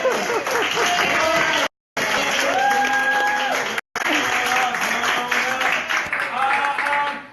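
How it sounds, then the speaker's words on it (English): An improv theater show audience claps loudly and continuously, the applause briefly cut twice, while voices call out over it. "Give round of applause!"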